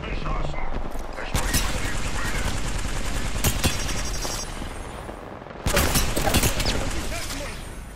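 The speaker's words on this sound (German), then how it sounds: "Schüsse! Und sie treffen mich!" Rapid bursts of gunfire in the video game Apex Legends crackle almost continuously, with dense automatic fire and sharp shots, briefly dropping before another loud volley.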